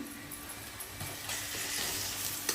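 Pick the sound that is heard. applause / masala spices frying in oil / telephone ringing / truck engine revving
masala spices frying in oil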